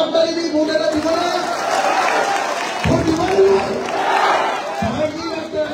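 At a political rally, a large crowd roars and cheers continuously, with scattered clapping under a loud public-address voice, dense and sustained throughout.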